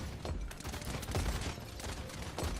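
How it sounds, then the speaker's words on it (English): Rapid gunfire in the video game Paladins, a steady stream of shots fired off in a continuous volley, muffled and dense with a few sharper cracks standing out, at moderate loudness throughout. "wait until I'm at full ammo, nothing below full ammo, and then I press L1 and fire off all the bullets"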